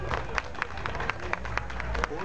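Audience applause greeting the gaúcho group Chasque Campeiro at a Dia do Gaúcho celebration: steady crowd clapping with sharper individual claps, under a murmur of crowd noise.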